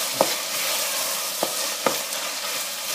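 Garlic sizzles steadily in a hot frying pan, a constant loud hiss broken by three sharp scrapes as it is stirred.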